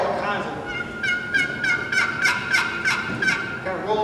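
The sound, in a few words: turkey box call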